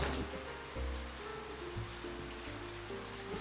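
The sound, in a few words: heavy rain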